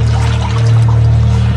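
A crocodile drags an adult wildebeest through a shallow pool, producing a loud, continuous churn of sloshing and pouring water that holds steady for under two seconds over a low, constant droning hum.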